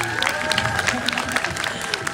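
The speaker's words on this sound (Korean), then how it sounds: "큰 박수 부탁드립니다" Audience applause at a Busan International Film Festival Q&A screening, a dense steady clatter of many hands clapping throughout, with crowd noise and background voices mixed in.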